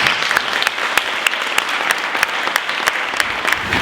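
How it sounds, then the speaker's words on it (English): Loud, steady applause from an audience at a parliamentary panel event, dense clapping that fills the room without letting up. "Please give a round of applause."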